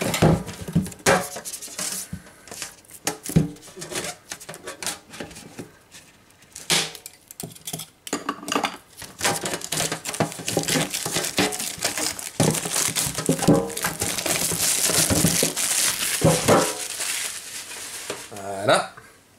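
Yu-Gi-Oh! 2014 Firefist & Bujin Mega Tin and its card packs being opened, with continuous close crinkling of foil wrappers, rustling and metallic tin clatter over nearly twenty seconds, busier and denser toward the end, with a person talking intermittently.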